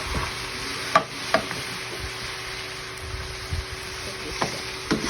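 Ground pork sautés in a pan under a soft, steady sizzle, with several sharp scrapes and clacks of a spatula stirring the meat.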